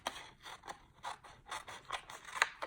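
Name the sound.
scissors cutting patterned paper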